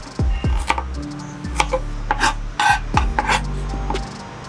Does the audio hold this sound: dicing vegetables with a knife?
yes